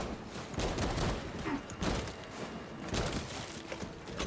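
Dense video game gunfire, rapid overlapping shots in a continuous chaotic fusillade, fairly loud and steady throughout with no talk on top.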